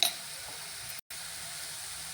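Spinach curry frying in a pan as chili powder goes in, a steady close sizzle with faint stirring that briefly cuts out for a moment before resuming.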